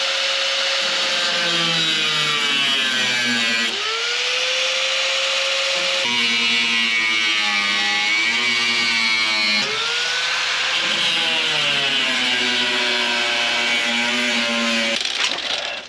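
Metal being cut on the fender of a 1950 Ford Shoebox, a loud, continuous whining cut that shifts in pitch as the tool bites and eases, running nearly sixteen seconds without talk.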